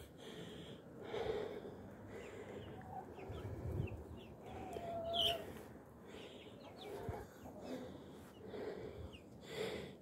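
Chickens and roosters cluck and murmur close by, with occasional higher calls from the roosters among the flock and soft background noise.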